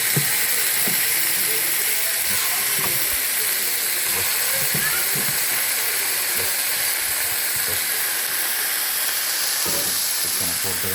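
Cleaned chicken pieces hit hot oil in a pan for chicken kulambu, setting off a steady loud sizzle and hiss with scattered crackles and light clatter throughout.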